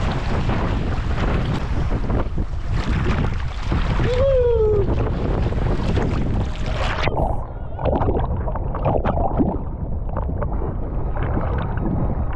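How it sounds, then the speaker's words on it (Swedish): Strong wind blows hard, roaring and buffeting against the microphone in a loud, continuous rumble with gusts that swell and ease, and a brief whistling note partway through. "Det blåser!"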